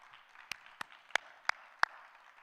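A handful of scattered, separate claps from graduation attendees honoring family and friends at an early childhood development ceremony, about five distinct sharp hand claps over a faint background hush.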